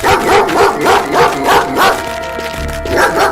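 A dog barks repeatedly in a steady rhythm, about two barks per second, in a Stories of Sodor episode. The barks sit close and loud over a continuous music bed.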